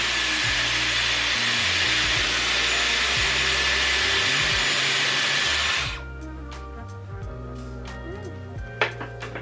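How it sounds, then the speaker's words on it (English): A Dyson Airwrap with the small barrel blows hot air at highest heat and speed, a loud steady whoosh for about six seconds that then cuts off, leaving faint handling noises. "highest heat, highest air, I wrap away from my face, leave it on for a bit"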